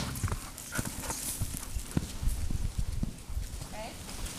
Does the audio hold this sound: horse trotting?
yes